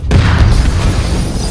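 A grenade goes off in the video game Mafia: Definitive Edition, a loud, sudden booming blast with a heavy low rumble that decays over a second or so.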